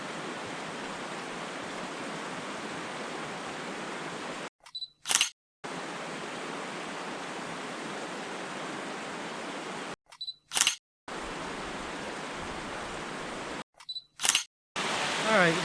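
A camera fires from a ledge beside a small creek waterfall near the Toccoa swinging bridge, giving three separate sharp shutter clicks spaced several seconds apart over the steady, rushing roar of water.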